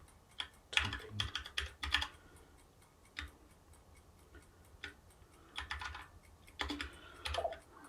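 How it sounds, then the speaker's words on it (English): Computer keyboard typing during iOS word game programming in Swift, with irregular bursts of clicking keys separated by short pauses, close and clear with no talking. "typing."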